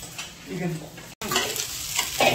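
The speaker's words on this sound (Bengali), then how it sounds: "ম্যাগি রান্না হচ্ছে।" Maggi noodles cook in a pan, with close scraping and stirring over a light sizzle that briefly cuts out midway before resuming.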